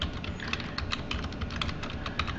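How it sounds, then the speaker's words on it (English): Steady, rapid keystrokes on a computer keyboard as a search phrase is typed into a browser's find box, a close, even run of clicks over a constant background hiss. "So what I do is just do Control F and then type in square footage."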